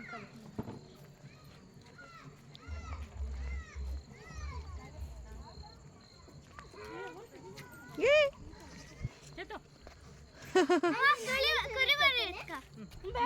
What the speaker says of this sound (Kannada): ಮೇಕೆ ಮೇಕೆ ಇದು